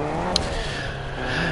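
Car driving in the Fortnite video game, a steady engine drone with a revving hum that runs continuously throughout, with a brief sharp click near the start.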